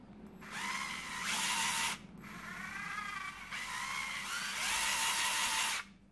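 Power drill whirring through a flexible shaft screwdriver bit extension, several sustained bursts of high-pitched motor whine with ratcheting texture, separated by brief stops, close and loud with no speech.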